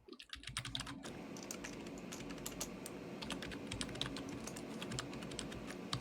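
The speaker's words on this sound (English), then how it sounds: "Sorry about the typing, y'all." Rapid, continuous typing on a computer keyboard, with close, crisp keystrokes that clatter unevenly for several seconds in a quiet room.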